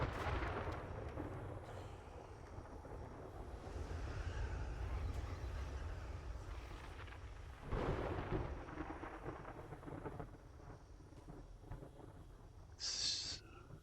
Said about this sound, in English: never-ending storm here.